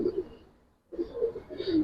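Giribaz and coloured pigeons coo softly in a caged collection, two faint low murmuring calls separated by a short pause.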